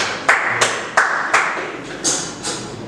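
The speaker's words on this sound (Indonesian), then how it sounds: "Beri tepuk tangan untuk kelompok 2" Classroom clapping for a student group comes through as a handful of sharp, separate claps in an uneven rhythm, close and moderately loud, with no talk over them.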